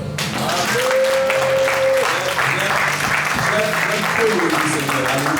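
A church congregation at an anniversary service bursts into sustained, dense applause, with voices calling out and shouting over the clapping throughout.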